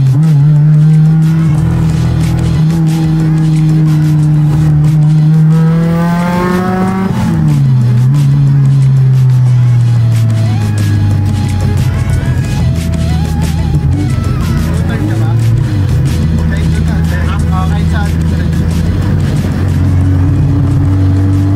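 A Honda EG hatchback with a K-swapped engine on a street tune runs loud and close, revving up and settling back to a steady drone.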